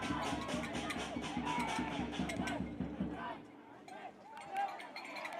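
Crowd noise rises at a football match between Bengaluru FC and Sreenidhi Deccan FC, a broad distant roar and chatter with rhythmic chanting early on, underneath a commentator's talk.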